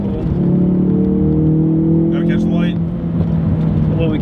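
A Ford Focus RS pulls hard, its engine drone climbing in pitch as it accelerates, loud and close, with people talking over it.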